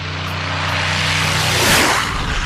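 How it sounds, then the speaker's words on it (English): An airplane roars loudly as it takes off close by, its engine drone steady and swelling to a peak near the end with a rushing whoosh. "This reporter nearly gets hit by a plane taking off"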